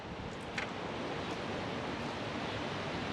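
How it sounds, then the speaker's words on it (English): Steady broadband wind roaring outdoors, constant and full-bodied with no pauses, like strong gusts buffeting the microphone. "It's really windy today"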